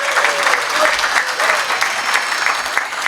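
Steady applause from an audience at a forum on Amazon forests and communities, a dense, even wash of clapping sustained throughout.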